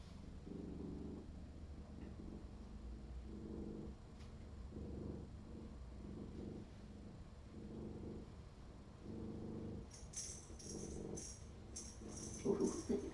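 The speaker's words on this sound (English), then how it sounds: "Oh, such a good purr." A feral cat purrs in a soft, rhythmic series of close, quiet rumbling pulses, with a few faint rustles near the end.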